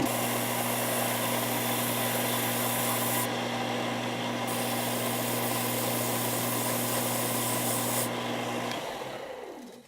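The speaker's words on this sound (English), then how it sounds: "I like to use a belt sander just to taper it down to the wedge shape that I need" A belt sander runs steadily and loudly, tapering a cherry hardwood strip into a wedge with a continuous motor hum and abrasive rub, then spinning down near the end.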